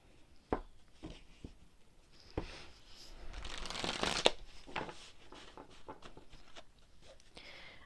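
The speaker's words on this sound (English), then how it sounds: "I shuffle until I feel" A deck of tarot cards is shuffled by hand, with soft riffles and taps punctuated by sharper snaps and a louder flurry midway, quiet and close with no talk.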